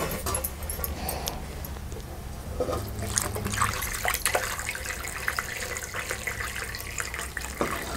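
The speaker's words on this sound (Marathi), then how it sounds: "आता आपण पाणी घेऊया ह्यामध्ये" Water poured into a large wide metal plate holding fresh drumstick leaves for washing, a steady splashing, trickling pour close by, with no talk.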